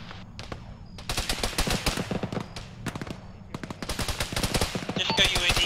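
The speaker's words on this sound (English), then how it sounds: "You guys are taking a lot of fire." Bursts of machine-gun and rifle fire in a military video game battle, rapid loud cracks in rolling volleys with brief pauses, growing denser toward the end.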